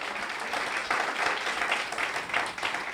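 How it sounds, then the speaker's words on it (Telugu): A church congregation applauding during a sermon, a dense, sustained wash of clapping from many hands that swells slightly partway through and continues for the full stretch. "చప్పట్లు కూడా దేవుని నామాన్ని మహిమపరచండి"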